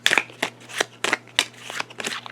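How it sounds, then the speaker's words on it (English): A deck of playing cards is shuffled in several quick riffle bursts, crisp and close, each burst a short rattling flutter with brief pauses between, no talking. "We're going to shuffle these up."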